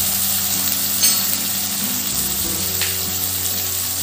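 Mixed vegetables, among them cabbage, French beans and flat bean pods, fry in a pan for a festive offering dish, giving a steady, close sizzle and hiss with a few soft scraping stirs.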